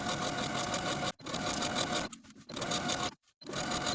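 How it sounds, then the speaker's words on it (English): A sewing machine runs steadily as it stitches the bottom hem of a blouse with a 3/8 inch seam allowance, three close bursts of loud, continuous motor whir separated by brief pauses. "take the bottom of the garment to the sewing machine and sew with a 3/8 inch seam allowance"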